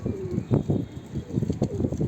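Arab blue pigeon, an older bird of mixed blood with slightly feathered feet, cooing in a series of low throaty bursts close by, with soft background noise between calls.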